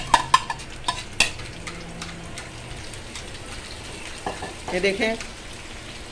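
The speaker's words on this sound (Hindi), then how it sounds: "ऑयल हमारा गर्म हो चुका है, अब हम इसमें अंडे ऐड करेंगे।" Egg batter fries in hot oil with a steady, close sizzling hiss, broken by sharp utensil clicks and taps against the pan, with a brief spoken phrase near the start.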